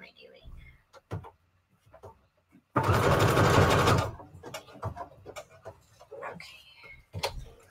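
A sewing machine stitches fabric scraps for Christmas embellishments in one loud, steady burst of about a second and a half, between stretches of someone talking and scattered handling clicks.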